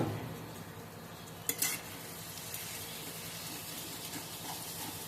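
Tender goat meat fries in an open pan while its released juices cook off. A steady, close sizzle and hiss is broken by one short metallic clatter early on. No one talks.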